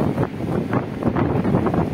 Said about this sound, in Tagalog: Lakas pa rin ang hangin, saka maulan.